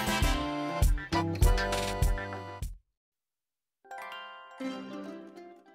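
A notification bell sound effect rings in bright, resonant dings, several quick chimes in a row, a short gap of silence, then another chime that rings out, all alone with no talking.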